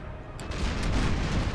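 Ship cannons fire in a Napoleon: Total War naval battle: a dense, rumbling barrage of booms rolls on steadily with no pause, muffled and continuous like distant broadsides.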